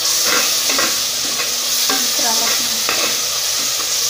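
Onion, ginger, garlic and mint paste sautéing in oil for banana flower biryani, a loud close sizzle with repeated scraping stirs of a spoon against the pan, no talking.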